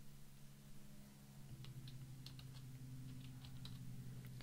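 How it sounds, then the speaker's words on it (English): Faint, quick keystrokes on a computer keyboard tap out an irregular run of clicks over a steady low hum of room or computer noise. "Now I just started typing."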